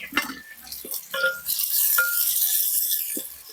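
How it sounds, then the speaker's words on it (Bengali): Chopped onion and tomato go into a pot for handi mutton. A few clinks and stirring knocks come first, then a loud, hissing sizzle rises and holds steady. "এবার আমি দিয়ে দেবো কিছুটা টুকরো করা পেঁয়াজ, আর দিয়ে দেবো টুকরো করা টমেটো, দিয়ে ভালো করে ভেজে নেব।"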